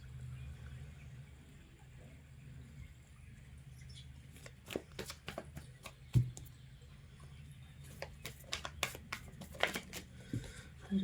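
Tarot-style cards shuffled for a card reading, a quiet run of soft riffling flicks and clicks that grows busier after a few seconds of near silence.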